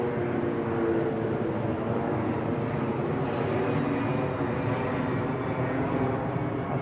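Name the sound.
airplane flying low overhead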